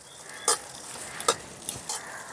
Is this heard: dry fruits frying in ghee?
yes